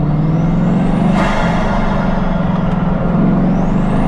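Bugatti Chiron engine and road roar heard from inside while cruising at speed, a steady loud whooshing drone with a rising whine, continuous and without voices.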